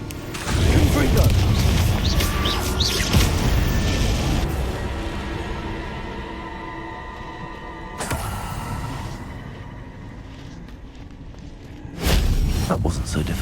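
A Confringo fire spell explodes in the video game Hogwarts Legacy, giving loud booming blasts and a rumbling mechanical din that fades, then one more sharp burst near the end.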